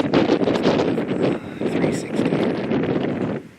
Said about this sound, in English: Even with the wind blowing, it's beautiful.